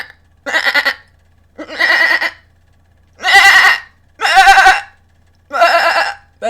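A person imitates a goat's bleat, five loud wavering bleats with short pauses between them, close and alone.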